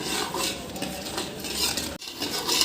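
A spoon stirs and sautés masala for Kashmiri chicken (murgh chaman) in a pan, with close scraping and clinking against the metal and a faint sizzle underneath. The sound is continuous and fairly loud, broken by one brief pause.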